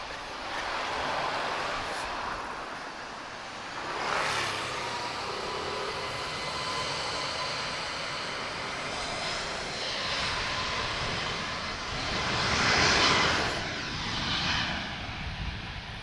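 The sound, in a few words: Airbus A321neo jet airliner taking off, TAP flight TP207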